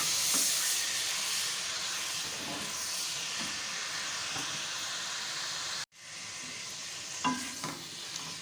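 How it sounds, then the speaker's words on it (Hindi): Mutton for korma being browned (bhuna) in a pot with onions: a steady, close sizzle and hiss of frying with occasional stirring scrapes, a brief drop out near the end before the sizzle resumes. "मटन डाल के भुनाई कर लें अच्छी तरह से।"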